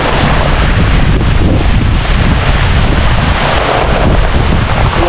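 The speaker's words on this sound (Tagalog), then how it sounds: "Palakas na palakas yung hangin." Strong wind blasting across the microphone, a loud steady roar of gusts that never lets up, with no voices.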